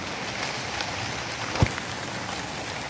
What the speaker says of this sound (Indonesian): Ini hujan guys nih.